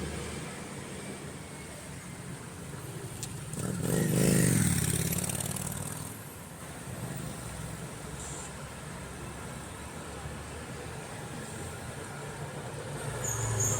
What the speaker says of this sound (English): There's a lot of traffic.